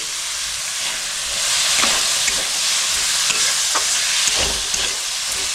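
Chopped carrots and beans stirred into chicken soup in a hot pan, continuous loud sizzling and steaming with periodic scraping strokes of a spoon roughly every half second to second.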